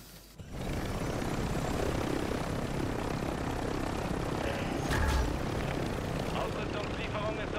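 Video game helicopter in Warzone 3: a dense, steady roar of rotor and engine that holds loud throughout, with a brief burst partway through.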